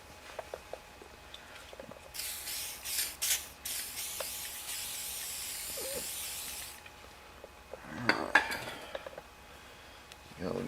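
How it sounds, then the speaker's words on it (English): WD-40 aerosol sprayed onto a scratched car surface: two long hissing bursts, the first broken by brief pauses, fairly close, followed by quieter handling clatter and a few sharp knocks near the end. "We're going to spray it on there."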